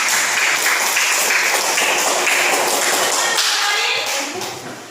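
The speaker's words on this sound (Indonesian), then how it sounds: "Beri tepuk tangan." A classroom full of people claps together, a steady dense patter of applause that thins out near the end.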